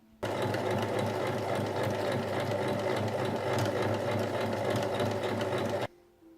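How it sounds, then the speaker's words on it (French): A sewing machine stitches a straight seam along the edge of a fabric Christmas stocking, a loud rapid continuous whirring hum heard close, starting abruptly and stopping just before the end. "Et on va coudre ici tout le long."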